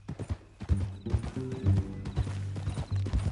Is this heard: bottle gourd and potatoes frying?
no